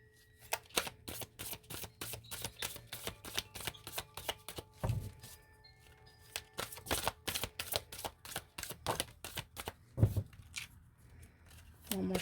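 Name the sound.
shuffling a deck of cards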